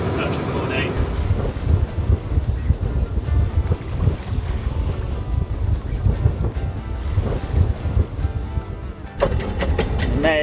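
A sailboat motors upwind through wind and waves, with a steady low engine and hull drone, wind buffeting the microphone and water washing past throughout, while people talk intermittently over it.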